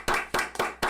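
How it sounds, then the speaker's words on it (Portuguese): A short burst of applause greeting a priest's arrival on a Catholic shrine's podcast, with four quick, loud clusters of clapping close by and no talk. "Por favor, uma salva de palmas."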